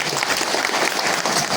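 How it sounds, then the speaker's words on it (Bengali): A crowd at a Khilgaon embroidery business gathering claps in dense, steady applause that stays at an even, fairly loud level throughout, with no voices over it. "তাদের জন্য একটা হাততালি চাচ্ছি আমি।"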